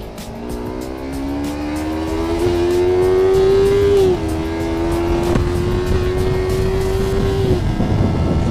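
A new motorcycle revs steadily while being ridden, its engine note climbing and holding a loud, close drone for several seconds with wind noise, a brief dip midway, then settling again.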